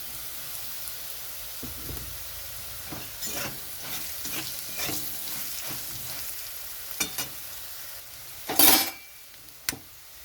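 Peanuts frying with spices in a pan for vegetarian sago khichuri, a steady close sizzle broken by scraping stir strokes and a few louder clanks of a spoon against the pan near the end.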